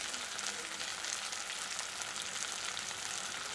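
Green chilies and cumin sizzle steadily in a hot oiled pan, a close, even frying hiss with no talking over it.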